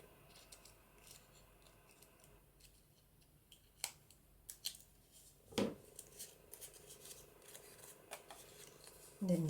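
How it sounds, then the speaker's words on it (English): Scissors trimming small bits of paper for junk journal specimen slides, a few quiet sharp snips and rustles scattered over a faint background. "I've got some little bits and pieces hanging over here, so I'll just trim them off"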